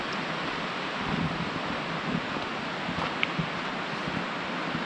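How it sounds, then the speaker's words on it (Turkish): Valley stream in the Serindere canyon near Yuvacık Dam flowing steadily, a broad continuous rushing of water heard up close with no voices. "vadinin deresi akmaya devam ediyor."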